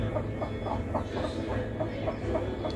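Chickens clucking close by in a village yard, a steady run of short rhythmic clucks repeating about every half second over a low background rumble, with no voices.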